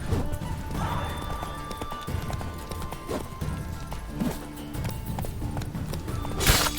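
Roach, the horse in the video game The Witcher 3: Wild Hunt, gallops in steady, rolling clip-clop hoofbeats that carry on throughout at moderate loudness, with a brief louder burst near the end.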